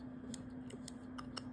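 Scissors snip through a pile of ashes in a quiet room, giving several short, crisp metallic clicks spaced irregularly over a low steady hum.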